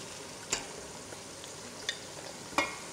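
Meat fries in a pan with browned onions, giving a soft, continuous sizzle that is broken by three sharp clinks of a spoon stirring against the pan.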